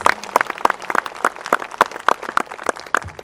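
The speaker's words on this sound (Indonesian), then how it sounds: "Yang percaya boleh tepuk tangan sekali lagi bagi Yesus" Scattered clapping from a small church conference crowd, uneven and moderately loud, with individual claps standing out.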